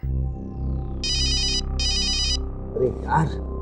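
An electronic phone ringtone plays in two short bursts of high chiming tones, with a voice starting to speak after the second burst.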